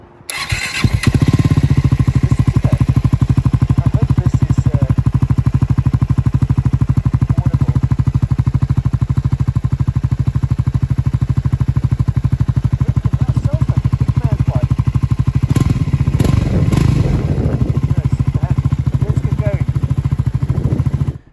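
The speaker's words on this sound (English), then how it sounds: "Let me just quickly start the bike so you can hear it." A Triumph Scrambler 400X motorcycle cranks and fires within the first second, then settles into a loud, even idle that runs steadily for about twenty seconds, with a brief burst of extra noise near the end.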